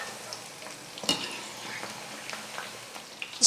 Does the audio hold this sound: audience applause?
no